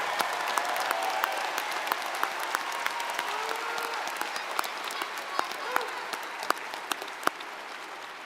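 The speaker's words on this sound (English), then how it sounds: "let's have another big round of applause for our Masters in Education Specialist candidates." Applause at a university spring commencement ceremony in an arena: continuous clapping from a large crowd, moderately distant, with sharper individual claps standing out above the steady patter and a faint voice underneath.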